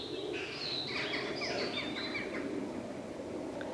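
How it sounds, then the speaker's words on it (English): Several birds chirp and trill in a quiet countryside meadow, bright overlapping calls in the first half over a soft, steady background hush, then thinning out. "We hear some birds and the birds are all happy."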